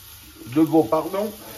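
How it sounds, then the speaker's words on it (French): Calf's or beef feet browning in a pan for a chickpea dish, giving a steady soft sizzle that runs under a short stretch of speech. "Et on fait revenir aussi les pieds de veau."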